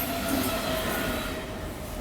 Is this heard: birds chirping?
no